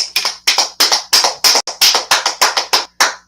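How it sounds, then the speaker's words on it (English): A class clapping together in a steady, loud unison rhythm of about a dozen sharp, close claps, each crisp and evenly spaced, with no talking. "So let's clap it up for class"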